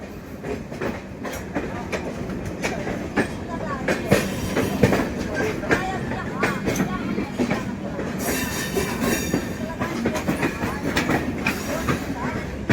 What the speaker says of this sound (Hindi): ये आ रही है अब 9:10 पर। Gorakhdham super fast express, Bathinda Chauri Chaura.